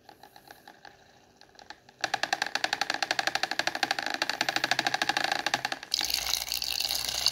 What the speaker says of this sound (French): Vous vous retrouvez donc avec un mélangeur.